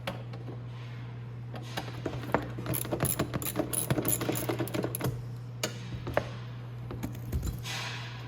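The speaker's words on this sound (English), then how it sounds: "we'll pull off the bolts now" Bolts being loosened and removed from the controller of a Venom E-Grizzly 1500W electric ATV, a run of close rapid metallic clicks and ratcheting ticks over a steady low hum.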